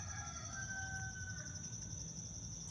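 Rooster crowing at a distance outdoors in the morning, a faint drawn-out call over a steady insect and ambient background hum.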